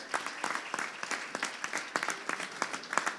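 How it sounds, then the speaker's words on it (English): Modest audience at a sales leaders awards event claps steadily for a few seconds, light and fairly close, with no talk over it. "round of applause"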